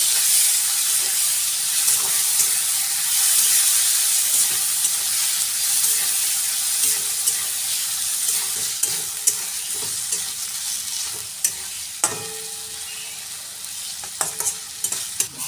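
A spice paste of onion, garlic, ginger, chilli, coriander, cumin, salt and turmeric sautéing in a pan for a pointed gourd dish, a steady hissing sizzle with occasional scraping stirs and clinks toward the end.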